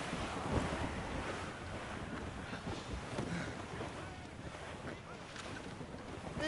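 A sailing ship at sea in the video game Assassin's Creed Rogue, with a steady wash of waves and gusting wind noise rolling continuously at moderate loudness, with no clear talk.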